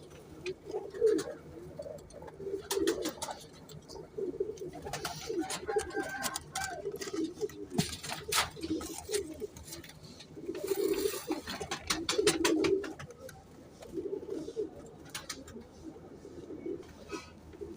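Frozpuri pigeons cooing nearby in repeated soft, throaty phrases, with a few sharp clicks and rustles between calls.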